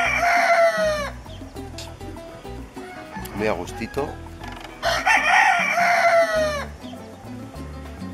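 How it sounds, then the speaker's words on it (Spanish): Roosters crow loudly twice, at the start and again midway, with hens clucking in between on a rural morning in Viñales, Cuba; a person speaks briefly in the background. "rodeado de gallos, de gallinas"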